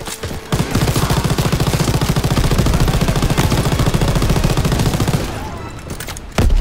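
Sustained rapid machine-gun fire in the World War II shooter Call of Duty WW2 during the D-Day landing, loud and continuous for about five seconds before cutting off, then a sharp blast near the end.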